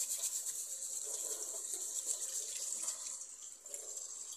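Glutinous rice is washed in water, a soft continuous splashing and rubbing wash, close and fairly quiet, with no voices.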